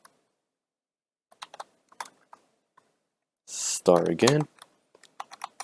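Sparse clicks of computer keyboard keys being typed while writing Java code, scattered light taps with a brief spoken phrase interrupting midway.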